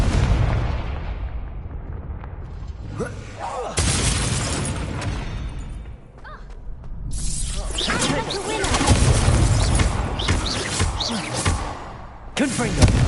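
Explosive Confringo spell blasts in the Hogwarts Legacy wizard dueling tournament, loud booming bursts around four and seven seconds with crackling debris, layered over game effects and a voice calling out.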